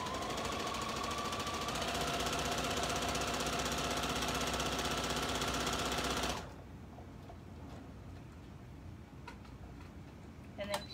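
A sewing machine stitches across the top of a garment vent in a dense, fast, rhythmic rattle for about six seconds, then stops abruptly, leaving quieter clicks and handling noises.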